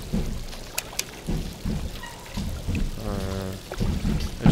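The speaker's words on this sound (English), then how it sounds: "Oh, I guess the water's coming from that pipe there." Water pours from a pipe in a flooded office complex in Black Mesa, a steady splashing stream with trickling under it, mid-distance and moderately loud, while a voice speaks briefly partway through.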